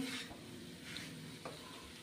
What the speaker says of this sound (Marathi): तर आता आपल्याला व्यवस्थित हा खवा परतून घ्यायचा आहे अगदी मंद आचेवर